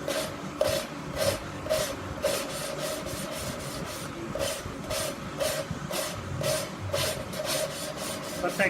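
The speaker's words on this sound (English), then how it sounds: "Start lapping." An engine valve for an SB2-2 racing engine being lapped into its seat with grit, giving a steady rhythmic rasping scrub that repeats back and forth roughly twice per second, close and continuous.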